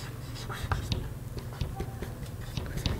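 Writing strokes during an Arabic grammar lesson: soft, irregular scratches and light taps of a pen or chalk, fairly faint, over a low steady background hum.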